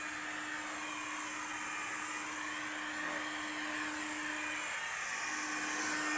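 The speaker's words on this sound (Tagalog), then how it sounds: "Yan ang blower." An air blower runs steadily during automotive paint retouching on a Mitsubishi Mirage, a continuous broadband whir with a steady hum, close and loud throughout with no talk.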